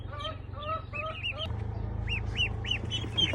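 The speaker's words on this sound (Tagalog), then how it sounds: "Ito yung mga Muscovy ducklings" Muscovy ducklings peep in a busy chorus, bright repeated chirps rising and falling close by over a steady low hum, with no voices.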